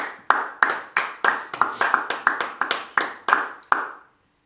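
A church congregation claps together in a steady rhythm, about a dozen sharp claps ringing in a reverberant hall before stopping abruptly.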